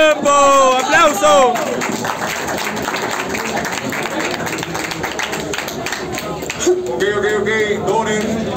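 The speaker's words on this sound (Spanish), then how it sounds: "¡Aplauso!" A crowd at a rap battle breaks into applause and cheering, dense clapping spread across the room with whoops, while a host's voice rises above it at the start and again near the end.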